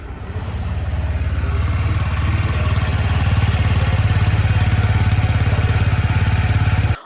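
A 2025 TVS Jupiter 125 scooter runs at a steady idle, its small engine and exhaust giving a loud, even, low chugging pulse close by for about seven seconds with no speech.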